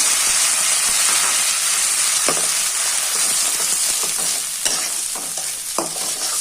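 A tomato and onion paste for egg curry is sautéed in a pan, producing a loud, steady hissing sizzle close up, punctuated by scraping stirs and spatula knocks, without talk.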